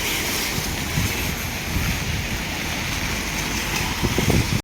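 Strong wind roars in a dense, steady rush with heavy rain during a flood in Vav Tharad, the gusts buffeting constantly and swelling briefly near the end; no voices.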